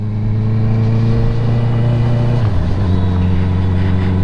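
Honda CBR 650R motorcycle with an Akrapovic exhaust fitted with a dB killer, engine running steadily and loud up close, its tone dropping slightly midway with no talk over it.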